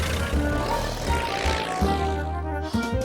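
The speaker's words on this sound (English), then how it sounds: "But today, he decided to fly in my toy plane." A cartoon toy plane flies with a continuous buzzing propeller drone that shifts slightly in pitch as it goes, loud and close, alone without speech.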